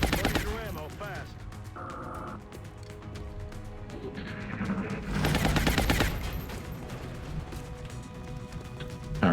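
Gunfire from covering-fire shots in the strategy game XCOM Long War, loud bursts of shots over game music and effects, with a heavier, denser stretch of shooting midway.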